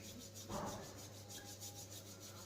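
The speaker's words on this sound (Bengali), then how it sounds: "হাতের এই তালু দুটোকে ঠিক এইভাবে ঘষতে থাকুন এইভাবে ঠিক যেভাবে আমি ঘষছি" Palms of the hands rubbed together, a soft, brief, close-up friction swish that peaks early and then fades into a quiet, steady background hum.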